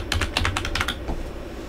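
Rapid typing on a computer keyboard while a password is entered during an Ubuntu Server installation, a quick run of close, crisp key clicks that trails off into quiet.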